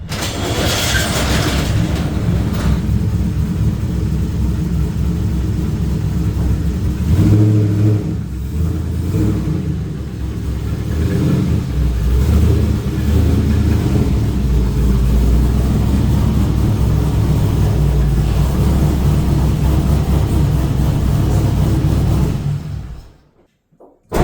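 A cammed Pontiac Trans Am V8 roars on a dyno, building through a long, loud, sustained full-throttle pull with a deep choppy rumble before the engine drops off and falls silent.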